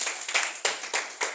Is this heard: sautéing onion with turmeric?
no